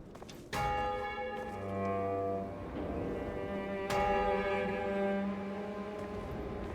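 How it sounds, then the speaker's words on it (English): A deep church-style bell tolls twice in the video game Blacktail. Each resonant strike rings out and lingers with a long humming decay, clear and without talk. "Does the bell pose a problem here?"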